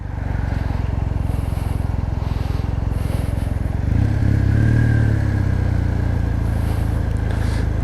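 A 2019 Kawasaki W800 cafe racer style motorcycle rides over cobbled stones, its engine a close, steady, loud drone that grows rougher and louder partway through as the bike rumbles across the cobbles.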